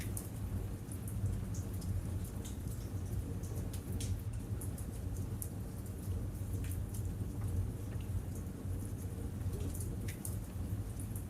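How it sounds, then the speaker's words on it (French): Gentle rain falls steadily outside, heard from indoors by a fireplace among shelves of books: a soft, continuous hiss and patter with no breaks and no voices. "écoutez la pluie tomber doucement dehors"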